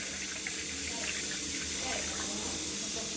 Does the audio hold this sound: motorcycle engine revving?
no